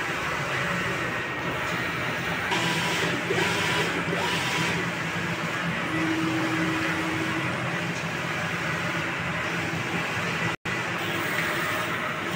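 A Sauyo 6 ft four-head sublimation printer runs a nozzle test, giving a steady mechanical hum and whir with faint tonal beeps and carriage movement, close and without talk.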